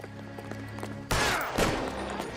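A sudden loud gunshot burst in LA Noire during a detective shootout in an alley. It breaks over quieter ambient game sound and is followed by another sharp report and a fading tail.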